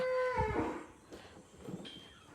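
Crossbred beef cattle moo once, a loud low drawn-out call up close, followed by quieter farmyard rustling with no talk.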